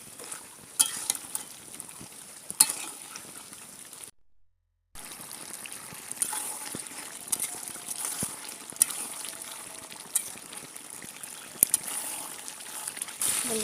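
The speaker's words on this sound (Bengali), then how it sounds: "গোশটা ভালো করে কষিয়ে নেব।" Beef with spices being stir-fried in a pan for a potato and beef curry, with a soft steady sizzle and repeated scraping and stirring clicks; there is a brief silent gap, and no voice is heard.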